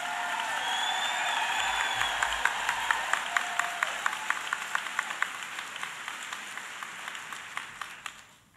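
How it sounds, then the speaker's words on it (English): A crowd of nurses gives sustained applause during a speech, a broad wash of clapping with a steady rhythm of sharp individual claps that slowly fades toward the end. "Give her a big round of applause."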